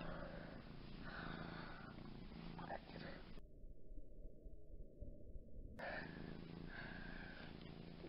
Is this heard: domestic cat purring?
yes